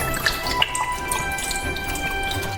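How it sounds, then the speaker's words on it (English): Liquid drains from an opened jar of apricots, a quiet trickle with small irregular drips and splashes close by, no voices. "drain out all the unnecessary fluid"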